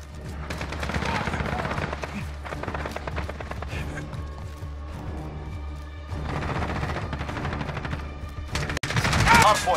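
Busy gunfire in a Call of Duty: Modern Warfare Hardpoint match, with overlapping bursts and shots at mid distance, a sharp crack near the end, and game voices mixed in.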